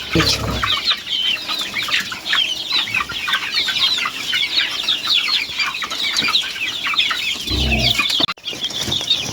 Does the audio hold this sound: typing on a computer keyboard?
no